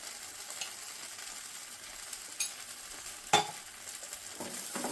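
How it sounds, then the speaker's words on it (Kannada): A spoon stirring banana halwa as it fries in ghee, a soft steady sizzle broken by a few sharp scraping clicks against the pan, close and fairly quiet with no voices. "ಇದನ್ನು ಕೈ ಬಿಡದೆ ಆಡಿಸ್ತಾ ಇರೋಣ ಚೆನ್ನಾಗಿ"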